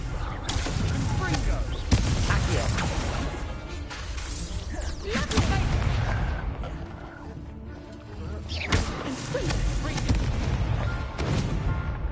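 A fiery blast spell, Confringo, erupts in Hogwarts Legacy amid booming impacts and whooshes, one sharp hit early and several rolling explosions, with voices talking over the game sounds.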